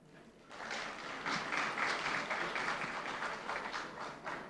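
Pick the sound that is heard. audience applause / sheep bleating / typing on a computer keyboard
audience applause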